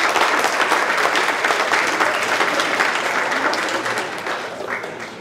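Sustained applause from a congregation at an ecumenical summer festival service, honouring the organiser; a thick wash of clapping that fades slightly toward the end.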